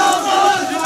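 Dense crowd noise from a large gathering welcoming Omar Abdullah in Jammu, a loud continuous hubbub of many voices shouting together, close and unbroken.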